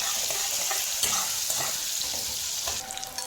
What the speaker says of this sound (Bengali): পেঁয়াজের তেলের মধ্যে লঙ্কা গুঁড়োগুলো দিলে কালারটা খুব সুন্দর আসে।